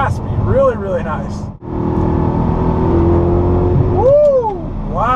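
A supercharged VF Engineering Audi R8 engine roars inside a tunnel, a loud, sustained raspy drone with supercharger whine rising and falling through revs and a brief dip, echoing around the walls.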